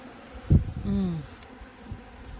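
Honey bees buzz close by during a honey harvest, one sharp droning pass rising and falling within about a second, over a faint hum of the hive.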